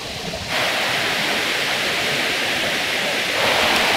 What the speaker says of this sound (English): This is a quiet pool at the water garden. Super nice in Fort Worth.